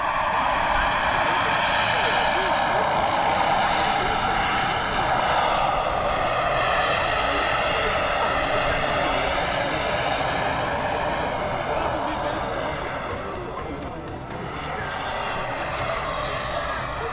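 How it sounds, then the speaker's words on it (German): Twin-engine RC model helicopter in flight, a steady loud rotor and motor drone with a high whine that holds throughout, dipping slightly near the end. "Mit diesen zwei Motoren ist natürlich auch die Kraft und die Leistung des Helikopters höher, somit kann er auch höher rauffliegen."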